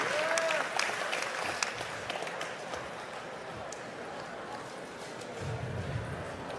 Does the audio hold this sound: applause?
yes